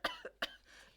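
A child gives two or three short, quiet coughs in quick succession, fairly close but faint against a soft background.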